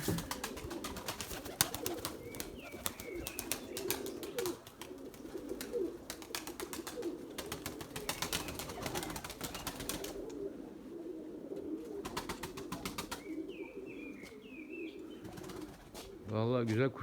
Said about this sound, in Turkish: Kuşlar da ötüyor arkadaşlar.